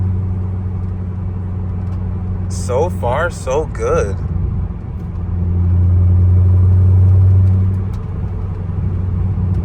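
A C5 Corvette on a test drive, its engine and road rumble droning steadily throughout, swelling louder for a few seconds near the end, with someone talking briefly over it.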